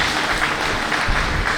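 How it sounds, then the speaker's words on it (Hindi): A crowd at an outdoor Haryana rally claps loudly and continuously in applause for the state police, a dense, even wash of hand claps with no talking. "अपनी हरियाणा पुलिस के लिए ताली बजाइए"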